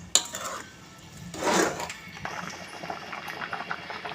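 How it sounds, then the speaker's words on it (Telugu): Carrot vermicelli (semiya) sweet dish boiling in a pot, a soft bubbling simmer with a brief clatter of a utensil against the pot near the start. "చూడండి ఎలా ఉడుకుతున్నాయో సేమియాలు"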